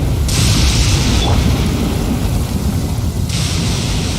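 Thunder rumbles heavily in the Genshin Impact video game, a loud, continuous low roar laid over steady rain-like noise, with no talk.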